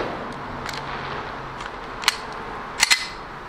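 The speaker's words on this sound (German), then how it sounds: "Black Mamba Knallkartusche." A blank pistol fires Black Mamba blank cartridges, sounding as three sharp, short cracks, one alone and then two close together, over a quiet outdoor background.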